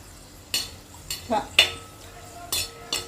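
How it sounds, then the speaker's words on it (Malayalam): Cashews and raisins roasting in a pan for rava kesari, stirred with a metal spoon that clinks and scrapes against the pan in short, irregular knocks, close and fairly loud over a soft background hiss. "നമുക്ക് ഇതിലോട്ട് ആവശ്യമായ അണ്ടിപ്പരിപ്പ്, മുന്തിരി വറുത്ത് വരാം"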